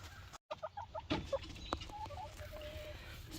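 Backyard chickens clucking nearby at moderate volume, a few short chattering calls and soft murmurs spread across the stretch, with a brief clunk early on and no talk.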